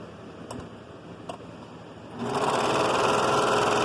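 A sewing machine stitching the skirt of a baby ruffle dress starts up after a couple of faint clicks, then runs in a loud, steady, rapid whir close by, with no talking.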